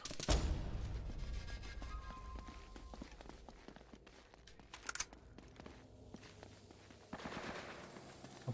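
Gunfire in the video game Uncharted: Drake's Fortune, with bursts of shots at roughly 0.3, 5 and 7 seconds over a steady game backdrop.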